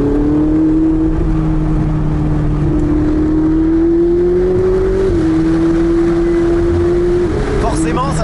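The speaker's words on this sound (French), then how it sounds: "Forcément, ça chante moins qu'une 458 vu que t'as deux turbos, mais il y a beaucoup plus de couple, donc ça accélère plus fort." Ferrari 488 twin-turbo engine pulling hard under acceleration, a loud steady drone heard from inside the car that rises slowly in pitch with brief dips at gear changes, and a voice speaks over it.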